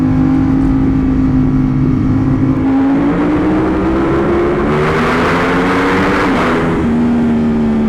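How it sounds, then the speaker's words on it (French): A 2025 Ducati Panigale V4S engine roars steadily and loudly, its pitch climbing and surging as it revs through the gears, echoing in a tunnel. "Le bruit du V4, c'est quelque chose"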